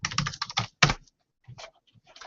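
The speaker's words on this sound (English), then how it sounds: "let me actually type in Apple" Fingers tap a computer keyboard in quick close bursts of clicks, a rapid run of keystrokes, a short pause, then a few more scattered presses, alone without speech.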